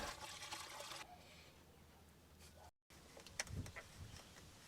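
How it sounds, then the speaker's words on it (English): A bucket of water is tipped into a pool pump to prime it: a rushing, splashing pour for about a second, then a softer trickle, a brief silence, and a few closer splashes and knocks. "It's a good idea to prime the pump by tipping a bucket of water in there."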